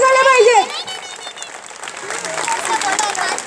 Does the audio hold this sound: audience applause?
yes